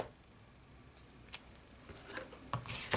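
Scissors cut out a hand-stamped paper piece for a greeting card. Quiet, crisp snips come irregularly, growing more frequent and a little louder toward the end.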